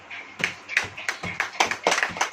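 A church congregation claps along during a Hindi-language sermon, about eight sharp, fairly even hand-claps in quick succession, close and moderately loud.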